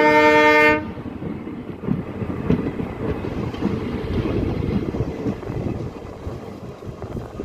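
A train horn sounds briefly at the start, followed by the steady loud rumble and clatter of railway cars rolling past.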